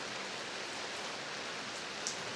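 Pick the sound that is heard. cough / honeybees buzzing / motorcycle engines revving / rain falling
rain falling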